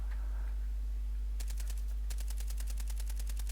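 Rapid bursts of video game gunfire, fast evenly spaced shots in two quick volleys over a steady low electronic hum.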